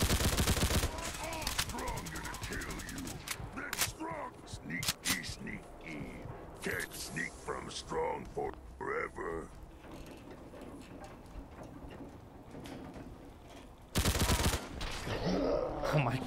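Bursts of gunfire in the Fallout 4 game at Trinity Tower, with sharp shots and mechanical clatter at the start and end while someone talks through the quieter middle.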